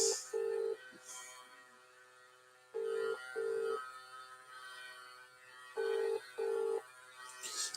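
A phone rings out while calling a mobile number, giving three pairs of ringback tones with quiet gaps between them over a faint steady hum.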